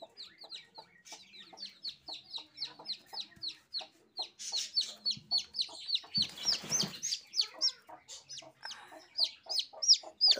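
A hen clucks steadily while a brood of four small chicks peep in rapid, repeated high chirps close by, with a brief rustling burst midway.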